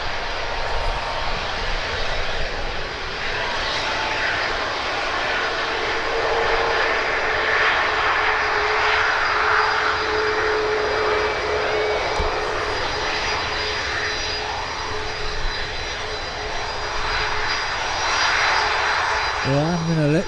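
Ryanair jet airliner departing Birmingham Airport, its engines producing a loud, steady roar that holds for the whole stretch with a faint whine above it, heard up close with occasional speech underneath.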